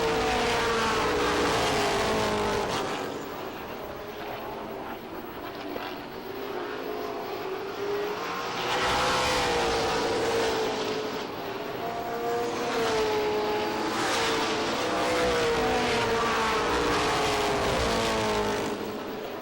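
Pro stock race cars roar down the front stretch at Lee USA Speedway, engines droning loudly and continuously, swelling as cars pass by in waves.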